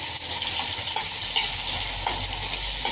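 Onions sizzle and fry steadily in a pan for kare-kare, a loud, continuous hiss with occasional scraping stirs, close by and without talk.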